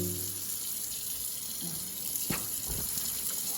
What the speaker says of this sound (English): I'm a freak about washing my hands.